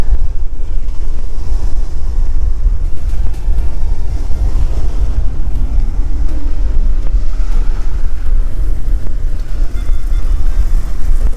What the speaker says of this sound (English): So she's a bit blowy today.